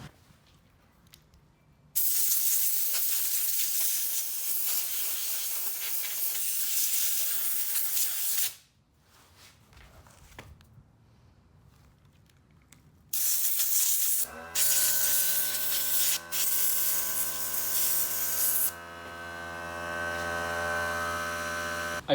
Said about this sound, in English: just blowing everything out with the air compressor